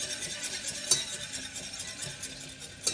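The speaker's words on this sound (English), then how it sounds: "now we're going to add slowly and whisk the flour in." Flour whisked into melted butter in a pan for a roux, a soft continuous stirring scrape with faint sizzle, a couple of sharper metal taps against the pan.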